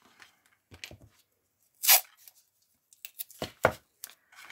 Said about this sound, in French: Je mets de nouveau mon scotch.